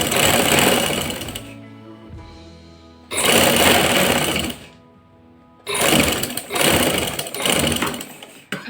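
Bursts of a domestic sewing machine stitching a fabric strip for a kameez, kept slightly taut while sewing a curved edge; three loud, steady runs of rapid motor whir separated by short pauses.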